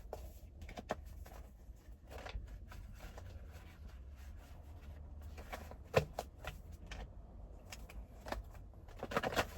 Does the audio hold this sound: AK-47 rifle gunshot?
no